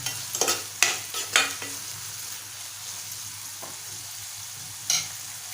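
Sprouted moong is stirred in a frying pan: several scraping spoon strokes come in a quick cluster at first, then a soft continuous sizzle, and one more stir near the end.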